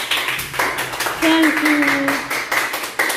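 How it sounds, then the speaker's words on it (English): Second-grade pupils in a classroom clap briefly for a classmate, a short burst of close, light hand claps with a teacher speaking over it. "Clap for him."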